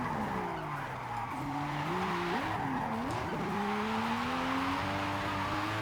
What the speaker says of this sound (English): Definitely sounds like a 6-cylinder, I'll tell you that now.